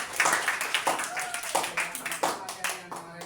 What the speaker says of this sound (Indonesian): oke, terima kasih, kasih aplaus buat materi